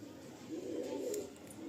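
Pet pigeons coo softly, one low, murmuring call swelling near the middle and then fading, faint and close with nothing else around it.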